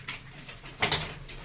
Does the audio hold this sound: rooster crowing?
no